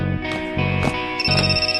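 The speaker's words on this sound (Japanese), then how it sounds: "電話だ。" A telephone rings in an anime scene, with repeated electronic bell bursts in a steady pattern across the short stretch, loud and close, with no voices over it.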